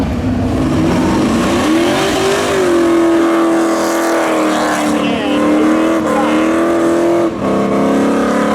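Cars roar at the Seekonk Speedway spectator drags, a loud sustained engine drone with shifting pitch as a race car revs and accelerates, with an announcer's voice over the noise.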